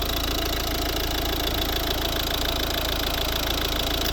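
A steady diesel engine idle from a 2012 Volvo V50 1.6 D2 runs throughout, a continuous low rumble with a faint rhythmic knock, close by and unchanging, with no voices.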